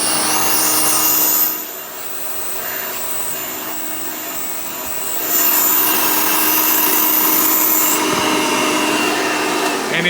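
A Hoover Elite 400 prototype vacuum cleaner with heavy suction leakage runs loud and close, a steady broadband whine that dips briefly in level before surging back up, with no talking.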